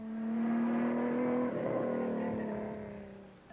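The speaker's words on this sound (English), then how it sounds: "The Maluti Mountains were reverberating to the sounds of these big engines" Big off-road racing engines, including a Nissan, drone and rev steadily at mid distance in the Maluti Mountains, a sustained throaty roar that swells slightly and then eases off.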